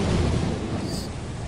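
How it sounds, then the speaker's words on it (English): Deep rumbling thunder from lightning in a video game, a low rolling boom that starts strong and slowly fades, with no talk over it. "Not to get killed by the lightning."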